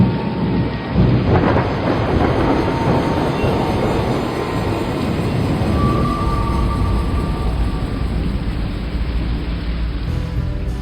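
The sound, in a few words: thunderclap after lightning, audiobook sound effect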